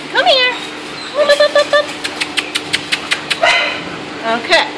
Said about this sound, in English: So we have this dog.